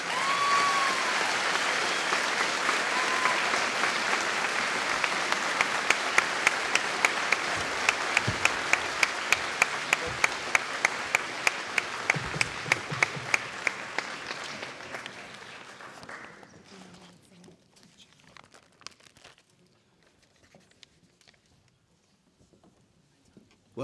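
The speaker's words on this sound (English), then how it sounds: "Can you give a huge, huge round of applause for Mr." Audience applause at a secondary school graduation ceremony in 2023, a full hall clapping loudly and steadily for about fifteen seconds, then thinning out and fading to a few scattered claps.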